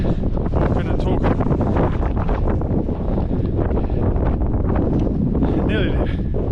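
Strong wind on Mt Oxford buffets the microphone, a loud continuous roaring rumble throughout that swamps everything else.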